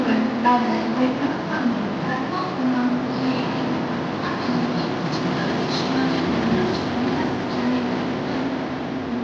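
A Mumbai local train on the Central Railway line rumbles along with a steady, droning rattle heard from inside the carriage. Someone talks over the noise throughout.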